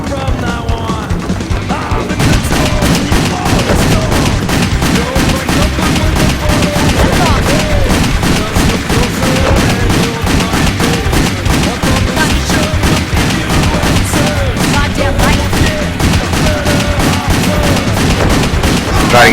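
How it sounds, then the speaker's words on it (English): Dense, continuous gunfire in the video game WET, rapid shots overlapping with booms and crashes for the whole stretch, loud and close with no pauses. "I'm also trying to shoot 2 different people at a time."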